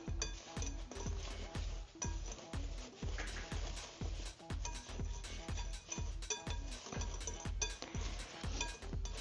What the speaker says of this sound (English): you want to go ahead and stir that until it's fully mixed together